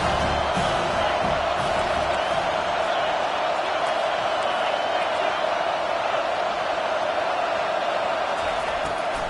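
Continuous dense roar of a football stadium crowd in a video game, loud and unbroken across the whole stretch with scattered whoops and cheers rising within the wash of noise.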